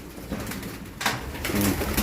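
Pigeons cooing softly in a loft at a pigeon-racing site, low repeated coos against a faint background hiss, with one or two slightly louder murmuring calls near the end.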